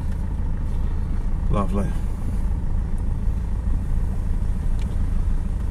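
A Kia Sorento 2.5 TD diesel pulls away with a steady low engine drone, heard from inside the cabin. Someone speaks briefly over it.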